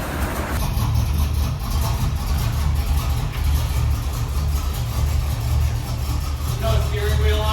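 A Harley-Davidson Dyna motorcycle engine idles with a deep, throbbing low rumble that holds steady throughout, close and loud, with a brief higher whine near the end and a voice talking over it.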